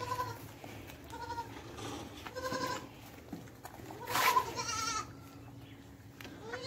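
Goats on a goat farm in Pakistan bleat several times at moderate distance against a quiet farmyard background, with one louder, longer bleat near the middle.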